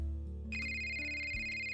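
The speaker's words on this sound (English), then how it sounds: "I gotta answer this phone." A phone ringtone sounds in an after-school scene, a steady electronic tone that starts partway through and holds, faint over a low background hum.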